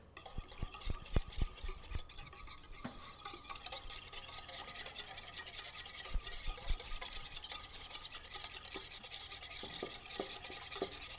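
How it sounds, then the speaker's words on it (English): Whisk stirring real mayonnaise into an emulsion in a bowl, a steady scraping rasp with sharp clicks of wire against the bowl, fairly quiet and close, with no talking. "We're going to whisk that right into the emulsification that we already did."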